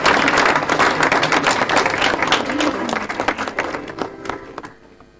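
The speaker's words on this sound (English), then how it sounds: "A big round of applause, Ghana Television." Audience applause at a school's 80th anniversary ceremony in Ghana, a dense sustained wash of clapping that slowly thins and fades out toward the end.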